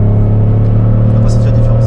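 A Citroën Xantia Activa V6 accelerating on the Nordschleife, heard from inside the car: loud, steady engine drone building gradually, with voices talking over it.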